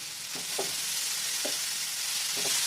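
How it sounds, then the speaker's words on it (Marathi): Fenugreek seeds and coated raw mango being stir-fried in a pan for a sweet-sour pickle, a steady sizzle with a few scraping stirs of the spoon at irregular intervals, close and alone. "छान मिनिटभर परतून घेऊया"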